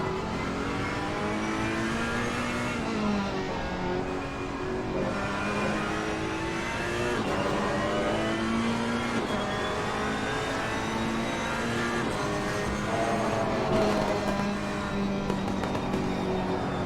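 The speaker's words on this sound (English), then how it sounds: "I do love the sound of the Ferrari engine. All that snap, crackle, and pop." A Ferrari race car engine revs hard through repeated gear changes, its pitch climbing and dropping in a steady loud roar with sharp pops and crackles scattered through it, sustained throughout.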